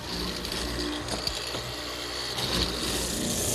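A mortising machine cuts a slot down the middle of a plywood strip, giving a steady, loud mechanical whir with a faint repetitive clatter that runs through the whole stretch, close up and with no talk.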